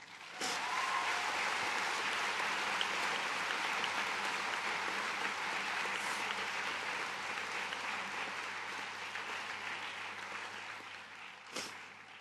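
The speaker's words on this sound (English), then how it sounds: "Let's give them a big round of applause." A graduation audience at the 2017 National University of Singapore ceremony breaks into steady, sustained applause that holds for about twelve seconds and tapers slightly near the end.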